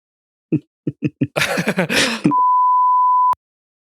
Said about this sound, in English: When you beep out a cuss word.